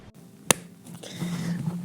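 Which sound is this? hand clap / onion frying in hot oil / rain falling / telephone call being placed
hand clap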